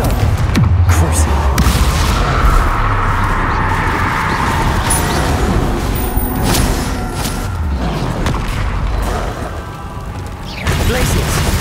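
Spell explosions from Confringo and Bombarda cast in combat in Hogwarts Legacy, with loud continuous booming blasts and bursts layered over game music and effects, and a voice calling out spell names throughout.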